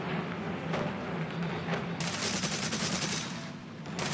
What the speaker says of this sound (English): Let off some rounds.